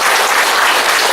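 A church congregation at a founding anniversary and ordination thanksgiving service claps loudly in celebration, a thick, continuous burst of applause from many hands.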